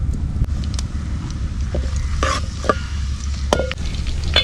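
Steady crackling sizzle of garlic frying in hot oil with salt over an open fire outdoors, with a few louder pops and scraping stirs, close by and continuous throughout.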